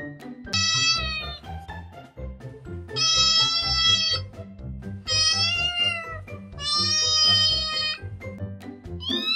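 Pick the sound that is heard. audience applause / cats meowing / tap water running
cats meowing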